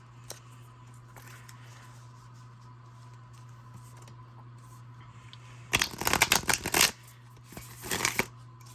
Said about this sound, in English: Oh, beautiful shuffle.